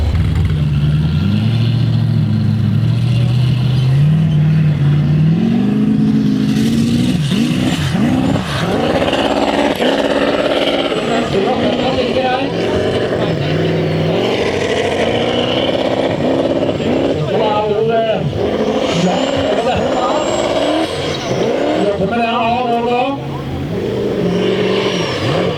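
Formula Offroad race car engine revving hard at Matrand, loud and continuous with rising and falling pitch sweeps, under a commentator's voice.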